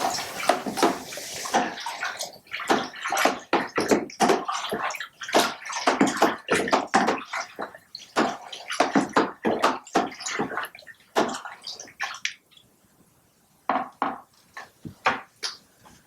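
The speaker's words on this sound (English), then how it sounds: "So give that a good stir in." Wine must for Pinot Grigio is stirred in a plastic fermentation bucket, giving a steady run of sloshing and knocking strokes. They are close and loud, pause briefly near the end, then resume.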